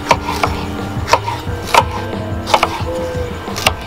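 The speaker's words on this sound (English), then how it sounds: "I'm just gonna cut them up" A knife chops hot peppers for an extremely spicy hot sauce, giving about six crisp, close taps on a board at an uneven pace, with no talking.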